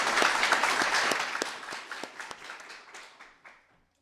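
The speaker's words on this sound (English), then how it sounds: "let's just maybe do a quick hand of applause" Applause at a game jam keynote, a moderate round of clapping that starts dense and thins into scattered separate claps before dying away to silence.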